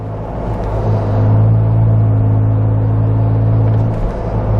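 Steady low exhaust rumble from a 2021 Ford Bronco with an AWE aftermarket catback exhaust while driving, a smooth constant drone from inside the vehicle with no voices.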